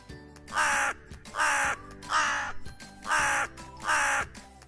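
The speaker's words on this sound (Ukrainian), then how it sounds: "Давайте послухаємо, як ворона каркає." A crow caws five times in a steady, evenly spaced rhythm, each call loud, harsh and close, with quiet pauses between.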